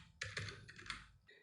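Quick bursts of computer keyboard typing, several keystrokes in close succession, crisp and fairly near with no talking.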